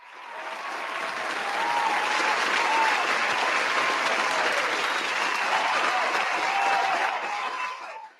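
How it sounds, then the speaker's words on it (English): Audience gives a round of applause on a sports talk show about the NFL, a dense sustained burst of clapping that swells in, holds loud for several seconds and then tapers off. "can we give Kyle Shanahan a round of applause?"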